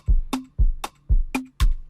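Conga drum struck in a steady pattern, a deep open tone followed by a sharper slap, repeated four times with no other sounds.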